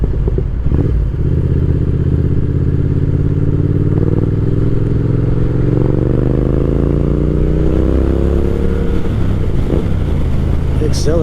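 A 2020 Triumph Speed Twin motorcycle, a bike of just over 400 pounds, accelerates hard with its engine note climbing steadily through rising gears, loud and close, while a voice talks over it.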